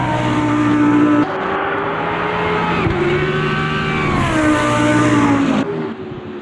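A Lamborghini race car in the Automobilista 2 racing sim revs hard, its engine note climbing and falling through gear changes with a brief tyre squeal, loud and close for the whole stretch.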